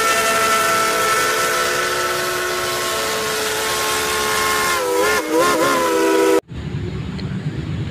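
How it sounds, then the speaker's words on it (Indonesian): A toy steam train lets out a long, loud, continuous hissing whistle that wavers near the end and then cuts off abruptly, leaving a low background noise. "Ini kereta api uap atau kereta klasik."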